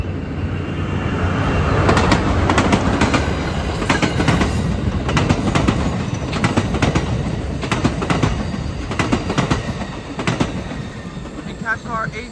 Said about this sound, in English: Here comes Amtrak San Joaquin Train 711, also mentioned as 711.